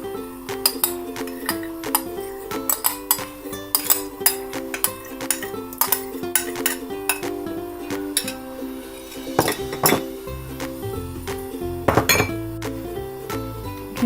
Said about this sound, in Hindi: अब घी सारा हम डाल लेंगे।